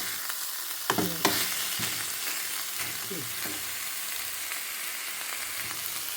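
Masala-coated mackerel (bangude) fries in a pan with a dense, steady sizzle, punctuated early on by a couple of clanks from a utensil, close and continuous with no talking.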